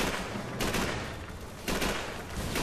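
Machine gun fire in the World War II video game Call of Duty 3, heard as a loud, dense, continuous rattle of shots with surges near the start and again toward the end, no voices over it.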